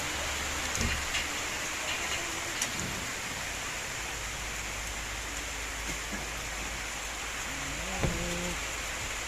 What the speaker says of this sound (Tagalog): Grabe, lakas laga ng ulan.